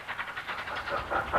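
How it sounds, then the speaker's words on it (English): Steam locomotive on a heritage railway in Norfolk passing close by, a steady rhythmic chuff with clattering wheel noise rising in loudness toward the end, no voices. "So when a steam train chugs by, it's quite an exciting event for both young and old."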